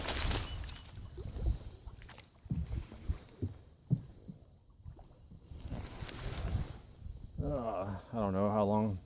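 A canoe paddled across water, with soft irregular paddle knocks and splashes at a quiet distance, followed by a person speaking at the end.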